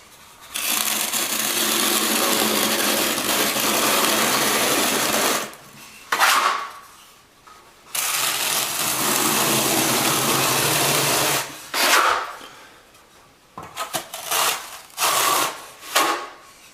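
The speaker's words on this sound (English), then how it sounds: "Now I'm going to spread the mortar on the subfloor with my notch trowel." A notch trowel spreads thinset mortar across a bathroom subfloor in long continuous rasping scrapes, broken by short pauses and quicker strokes near the end, with no talking.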